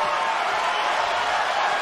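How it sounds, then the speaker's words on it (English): A packed arena crowd at a UFC bout between Paul Felder and Mike Perry roars steadily in a dense, continuous wall of cheering, loud and unbroken. "Crowd trying to get behind both of these warriors here"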